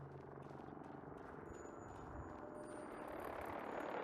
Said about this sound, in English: Crashing plane.